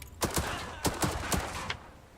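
Gunfire in Headquarters: World War 2, about five sharp shots fired in quick uneven succession, fairly close, against a low battlefield rumble.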